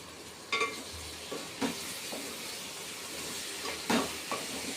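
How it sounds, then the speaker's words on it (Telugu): Sea prawns fry in a pan over a high flame for a tomato prawn curry, a faint, even sizzle with a few sharp spatula scrapes and knocks nearby. "ప్రాన్స్ కూడా మంచిగా వేగనిద్దాం. నేను మంట హైలోనే పెట్టినాను."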